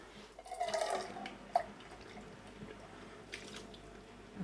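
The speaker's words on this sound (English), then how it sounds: "Just rinse out the can." Water sloshes around inside an emptied tin of canned tomatoes as it is rinsed out, a brief quiet burst of splashing followed by a single small clink, then a faint wet background.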